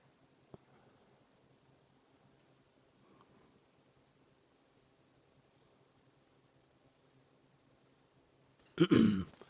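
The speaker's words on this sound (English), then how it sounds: "still coughing a bit" A quiet room with a faint tap early on, then a sudden burst of coughing and throat clearing near the end.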